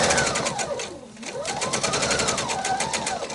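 A sewing machine stitching a quilt table topper runs in a steady, rapid mechanical whir with a rising and falling motor pitch, close and continuous, with a brief slowdown partway through.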